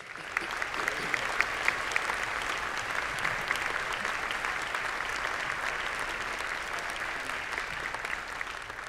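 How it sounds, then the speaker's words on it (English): A large audience at a university assembly breaks into sustained applause, a dense and even roar of many hands clapping at moderate volume with a few sharper individual claps standing out. "Let's give them a round of applause."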